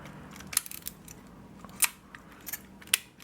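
A Canonet QL17 GIII film camera's shutter fires with a few sharp, close mechanical clicks spaced across a quiet room, each a brief crisp snap with faint handling noise between.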